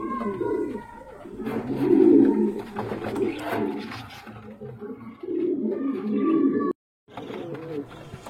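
Pet pigeons, a healthy breeding pair kept for sale, coo in repeated low throaty phrases close by, with other birds cooing around them and a brief silent gap near the end.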